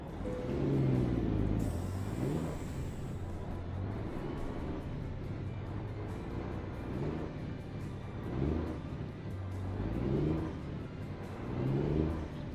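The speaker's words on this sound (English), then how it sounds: "look at that Mack again. It's not gonna go up the hill." Mack truck engine in American Truck Simulator straining uphill, revving in repeated swells of rising and falling pitch over a low rumble, steady and moderately loud, with no talking.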